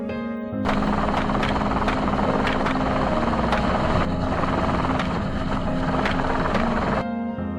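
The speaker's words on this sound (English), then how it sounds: "Helicopters continuously flew over heavily affected zones to monitor from above." Helicopters fly over farmland, a loud, steady rotor drone with rhythmic blade thumping that holds constant for several seconds, close and overhead.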